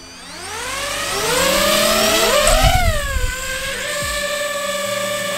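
A DJI FPV drone's motors spin up for takeoff, a whirring whine that climbs and bends in pitch, swelling louder mid-way then settling into a steady high hum.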